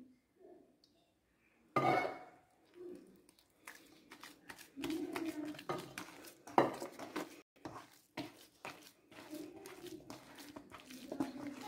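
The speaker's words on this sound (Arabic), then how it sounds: "غدا نجمع غير هاد الدقيق اللي باقي عندي في هاد الاناء ونحاول نجمعها بالزيت" Flour dough being kneaded and gathered with oil by hand in a bowl for soft Moroccan flatbreads, giving close, irregular squishing, clinking and bowl-scraping sounds with no talk.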